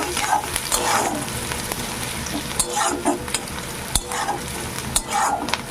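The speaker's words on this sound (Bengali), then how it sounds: "চার পাঁচটা মতো কাঁচা মরিচ একটু ভেজে নেব খুব বেশি না হালকা ভেজে নেব" Green chillies, four or five of them, fry lightly in a hot pan with a steady close sizzle, broken by a few scraping stirs and brief bursts of crackle.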